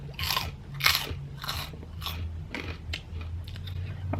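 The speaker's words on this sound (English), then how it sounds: "I have some pork rinds just to give it a little extra crunch" Close, loud crunching bites into crispy pork rinds, a steady run of sharp crackly chews roughly every half second, with no talking.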